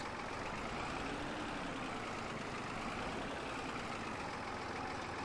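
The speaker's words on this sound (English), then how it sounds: "this is our first tractor that we will be using" A tractor engine from a historical farming game runs at a steady low idle, a constant rumbling drone heard alone with no talk.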